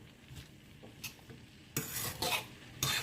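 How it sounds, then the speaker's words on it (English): Oyster mushrooms with garlic are stir-fried in a pan, with soft sizzling under several sharp scraping stirs of a utensil against the metal, coming in bursts. "Stir frying it, making sure it gets all the flavor."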